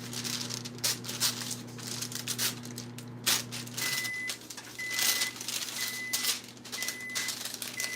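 Parchment paper being torn off and handled in a kitchen while making no-bake haystack treats, a close crackling, crinkling rustle in repeated bursts with a faint electronic beeping in the background.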